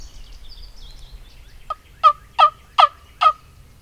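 Wild gobbler turkey in a field on public land late in the season, gobbling in four sharp, loud bursts in quick succession after faint bird calls, with nobody speaking.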